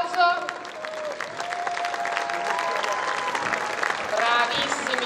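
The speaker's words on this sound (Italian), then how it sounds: "facciamo un grande applauso" Audience applause at a ceremony for a youth wind orchestra, moderate clapping with a voice speaking and brief whistle-like tones over it, swelling near the end.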